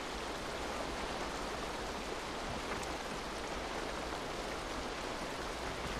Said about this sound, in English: Waterfall here, so uh, I think we should be good.